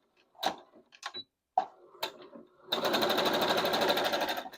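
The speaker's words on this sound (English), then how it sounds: "I'm going to back stitch up it just a little bit of the way." After a few scattered knocks and handling sounds, a sewing machine runs in a fast, steady, rhythmic chatter, back stitching a fabric headband up close.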